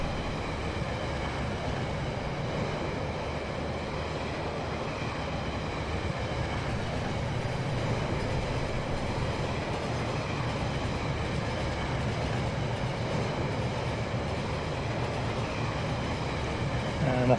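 A model train runs along its track in the Rolling Line video game, giving a continuous rumbling, rolling rail drone with faint rhythmic clatter, steady and unbroken throughout.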